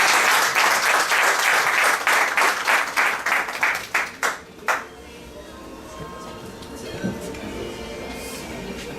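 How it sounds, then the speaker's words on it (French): Rhythmic, unified applause from an audience at a community gathering, loud and close, with strong synchronized claps in the first half that break apart and stop, leaving a quiet room with faint murmuring afterward. "Faites-lui un tonnerre d'applaudissements."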